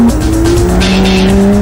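A four-wheel drive sports car cornering hard, its engine droning loudly with a sustained tire squeal rising over it, close and continuous throughout.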